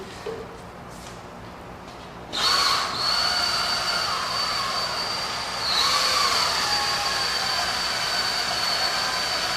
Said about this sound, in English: I'm just use a power drill to mix this up